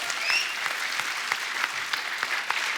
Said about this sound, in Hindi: और एक बात के लिए और तालियां बनती है